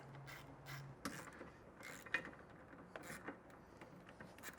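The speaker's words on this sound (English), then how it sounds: "So I'm going to use a 10mm wrench. I'm going to pull this off." Hand wrench work on bolts holding the bedside panel of a Jeep Gladiator truck bed, heard as faint scattered metallic clicks and ratcheting ticks with a few sharper taps, close by and without speech.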